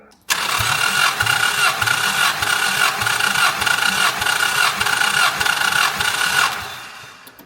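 A 1988 Chrysler Conquest Turbo barn find, unstarted for ten years, cranks briefly and catches. The engine then runs loud and steady up close with a rough, pulsing idle before it fades near the end.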